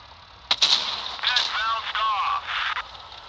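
A Russian tank gun firing in a tank battle game, sharp blasts followed by a ringing, radio-like tail, with someone speaking.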